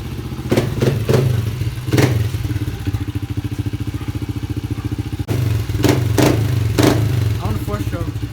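A dirt bike engine warming up nearby, a steady loud idle chug with several sharp blips of throttle in two bursts, and people talking over it.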